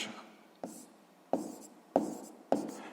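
Numbers written by hand during a sixth-grade math exercise, five short, distinct scratching pen strokes at a fairly even pace, close and quiet, with no voice.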